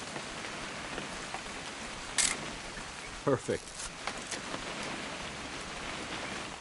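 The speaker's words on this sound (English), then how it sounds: "It's gonna rain the whole weekend" Steady rain patters continuously at an even level in the video game What Remains of Edith Finch, with a few brief clicks and a short spoken word over it.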